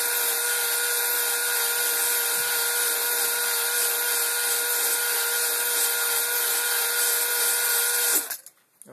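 Power drill running steadily during an air compressor rebuild on a Massey Ferguson 590 tractor trailer brake, a continuous high whine held at constant speed for several seconds before stopping abruptly.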